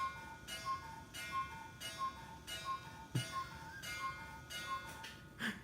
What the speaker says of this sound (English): It's a cuckoo clock I brought back from Germany a couple years ago.